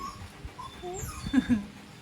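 A gentle dog gives soft, brief whimpers and a couple of small yips, faint and close by, with no one talking.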